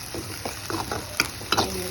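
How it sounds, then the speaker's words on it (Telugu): Onions frying with ginger paste in a pan for capsicum chicken fry: a soft continuous sizzle with a few stirring scrapes and clicks of a spoon against the pan, close and quiet. "ఇలా ఫ్రై చేసుకోండి."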